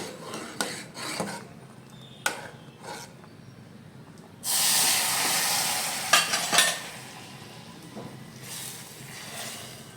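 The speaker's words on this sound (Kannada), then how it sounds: "ಸೊ ಇವಾಗ ಇದಕ್ಕೆ ಒಗ್ಗರಣೆನ ಹಾಕಬೇಕು." Hot tempering of pepper, mustard seeds and chillies poured into sambar bursts into a loud, sustained sizzle partway through, after scattered stirring and clinking, with sharp spits and crackles before it settles into a steady hiss.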